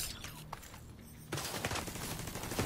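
Video game gunfire: distant scattered shots at first, then a louder, dense burst of rapid automatic fire that continues steadily to the end, heard without talking.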